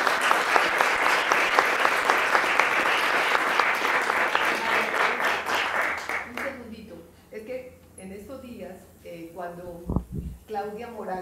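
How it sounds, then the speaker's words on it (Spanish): Dense applause breaks out for a writer at a book presentation and recital of an Afro-Colombian library, sustained for about six seconds before fading, after which a voice speaks over scattered remaining claps. "un aplauso muy grande"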